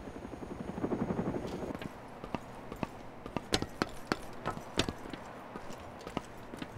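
Helicopter in the game Arma 2 DayZ Overpoch: a low rotor rumble swells early and then fades, while sharp clicks and footstep-like taps sound close by, spaced irregularly throughout.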